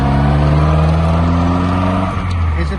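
A 1948 Jaguar Mark IV engine drones steadily on a test drive, a loud close hum that eases off near the end, with voices talking over it.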